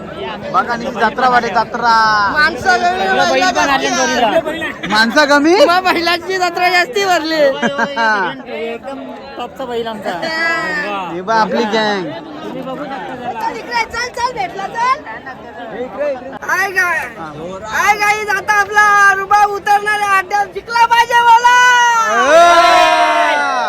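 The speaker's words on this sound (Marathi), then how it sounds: "बघा किती गर्दी आहे बायलांची" A dense crowd of women at a village fair chatters loudly and continuously, close by, with overlapping voices and occasional shouts.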